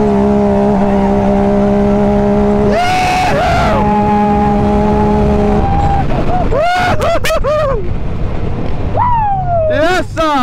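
Off-road vehicles on lightweight 32-inch trail tires race three wide down a drag strip at a mud bash event, engines droning loudly and steadily, then rising in sharp revving sweeps as they accelerate, with shouting and crowd noise throughout.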